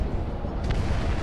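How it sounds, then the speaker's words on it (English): A missile launches in the VR air combat game Project Wingman, a dense, rumbling whoosh that fills the whole short moment with steady low roar and no speech. "Missile away, missile away."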